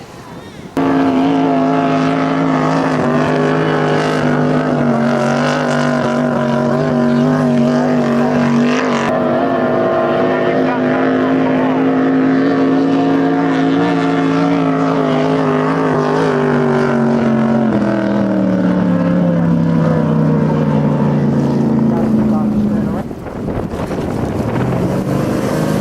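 A motorboat towing water skiers on the river drones loudly and steadily, its engine pitch wavering and falling near the end, with wind buffeting the microphone throughout.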